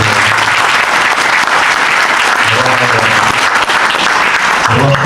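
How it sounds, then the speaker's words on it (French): Sustained applause from an assembled crowd at an association's annual general meeting, dense steady clapping filling the room with faint voices underneath. "on peut les applaudir et on les remercie"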